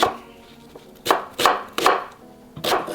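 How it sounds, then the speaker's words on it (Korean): A knife chops half an onion into rough, bite-sized pieces on a board: four sharp, distinct chops in an irregular rhythm, loud and close, with short quiet gaps between them. "먹기 좋은 크기로 듬성듬성 썰어 주었어요"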